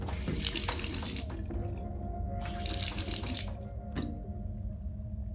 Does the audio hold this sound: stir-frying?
no